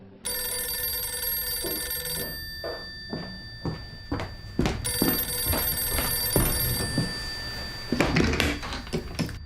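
A telephone rings in a French war-crimes trial documentary setting, a steady electronic ring with repeated pulses, interrupted by a pause and then resuming, alongside scattered thumps and clicks, with no talking.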